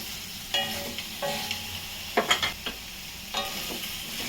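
Paneer fries in a pan with a soft sizzle underneath, broken by several scraping stirs and a quick cluster of clinks and knocks near the middle, with no speech.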